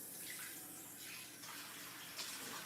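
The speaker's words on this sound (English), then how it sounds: "Let me rinse it out." Running tap water splashes steadily into a big cooking pot as it is rinsed in a kitchen sink, a close, continuous broadband rush with a brief louder splash near the end.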